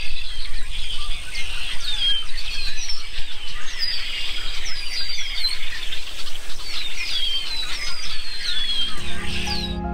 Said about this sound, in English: we heard the nature with the birds singing and chirping